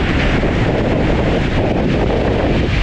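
Waves breaking on Diamond Beach in Iceland, where icebergs sit on the sand, make a continuous close roar of surf mixed with heavy wind buffeting on the microphone, steady and loud throughout.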